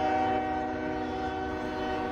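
An approaching train sounds a sustained, steady multi-tone horn blast over a low rumble of rolling rail noise, loud and close throughout.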